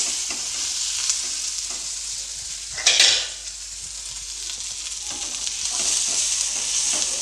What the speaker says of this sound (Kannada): ಒಂದೆಂಟು ಗೋಡಂಬಿ ಹಾಗೆ ಸ್ವಲ್ಪ ಕೊತ್ತಂಬರಿ ಸೊಪ್ಪು ಹಾಕಿ ಮತ್ತೆ ಫ್ರೈ ಮಾಡ್ಕೊಳ್ತಾ ಇದ್ದೀನಿ